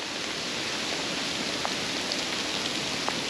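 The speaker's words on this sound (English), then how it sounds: "It's now gone beyond rain and it's hailing." Rain turning to hail on a bush walking track, a steady hissing wash of precipitation with a few faint sharp ticks of hailstones, even and continuous, heard outdoors with no talking.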